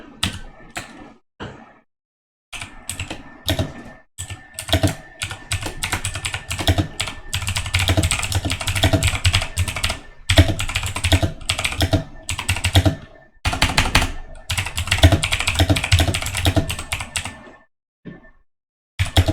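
Steady typing on a computer keyboard in a ham radio shack during PSK31 digital-mode operation, with rapid clustered keystroke bursts and a few short pauses, close and fairly loud, with no talking.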